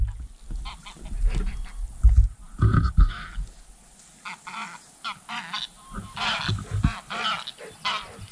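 Geese honk as they fly overhead along a river arm, several scattered honking bursts at moderate distance, coming in irregular clusters with quieter gaps between.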